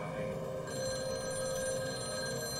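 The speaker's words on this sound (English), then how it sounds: "the phone rang" An old telephone ringing steadily during a staged crime reenactment, a continuous bright ring held over a low background bed.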